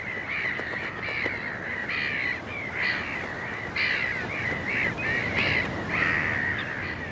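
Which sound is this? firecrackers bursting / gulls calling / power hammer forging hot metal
gulls calling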